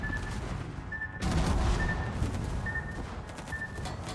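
Secondary guns on a World of Warships battleship fire in a rapid, overlapping barrage of muffled thuds and cracks under a steady battle rumble, with a periodic beeping tone recurring throughout.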